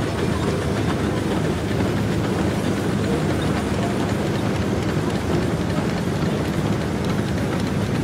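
A 1906 Reeves 16 horsepower double-cylinder steam traction engine rolls along in a parade, a steady loud rumbling, clattering mechanical run with no clear puffs standing out, continuous throughout.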